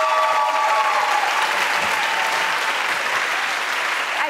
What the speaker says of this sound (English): A huge round of applause again for our final winner of the evening, Deluxe.